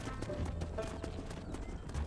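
Horse hooves clip-clopping at a steady gallop in the Red Dead Redemption video game, a loud continuous rhythmic thudding with faint game ambience and no speech over it.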